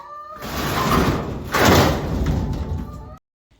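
A broad rushing scrape of a door dragged shut, swelling midway, then cut off abruptly into silence.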